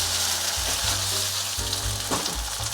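A vegan potato and mushroom pancake, just flipped, sizzles back in the hot pan with a steady, close frying crackle throughout.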